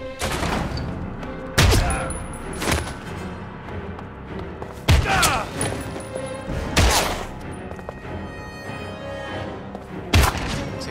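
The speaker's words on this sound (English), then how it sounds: "See how many times I get shot here." Gunfire in the video game Heavy Rain, a series of sharp loud shots and thuds in separate bursts, some close together, over a quieter game background.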